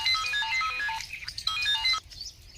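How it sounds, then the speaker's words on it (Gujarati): A mobile phone ringtone plays a bright repeating electronic melody, loud and close, for about two seconds before stopping, with no talk over it. "કેનો ફોન આવ્યો"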